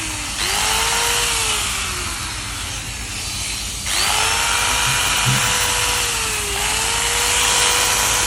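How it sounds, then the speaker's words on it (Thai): A Makita M9506 angle grinder with an electrical fault runs close and loud, starting up twice with a rising whine, then a steady high motor roar laced with crackling from sparking and shorting. "มันอาการออกตัวแล้วไฟแลบๆนะครับแบบว่ามีเสียงช็อตๆนะครับ"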